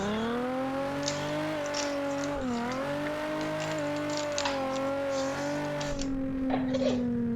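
A Nissan 350Z driven around Nikko circuit, its engine droning continuously with the note rising and dipping through gear changes and corners, heard close and steady throughout.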